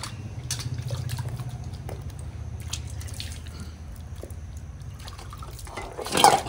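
A child splashing water around during a bath, with steady close dripping and trickling liquid, a low hum underneath and a brief louder splash near the end, no talking.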